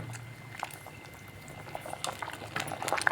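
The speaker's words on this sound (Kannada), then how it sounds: "ಚೆನ್ನಾಗಿ ಕುದಿದಿದೆ ನೋಡಿ" Avarekalu (lima bean) sambar simmering in a pot, a soft steady bubbling with scattered pops and spits that grow slightly livelier toward the end, close by and alone.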